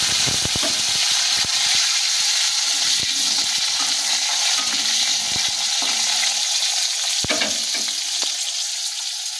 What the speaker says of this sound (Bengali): দিয়ে আমের টুকরোগুলো ভেজে নেব।